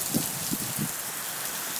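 Steady rain in a Brisbane summer storm hisses evenly throughout, a soft continuous wash with a few low thuds near the start and no voices.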